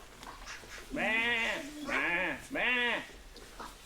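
A voice imitates sheep during toy play, giving three drawn-out, wavering bleats in close succession, loud and near, with faint room noise between them.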